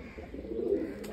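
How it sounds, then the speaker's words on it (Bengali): A grey and brown pigeon coos once in a short, soft, low burble, heard close by with no talk. "ঘো ও ব্রাউন কালারের পায়রা।"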